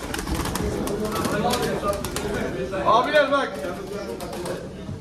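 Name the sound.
pigeons cooing and flapping at a pigeon auction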